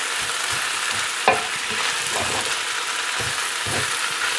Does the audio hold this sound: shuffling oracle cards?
no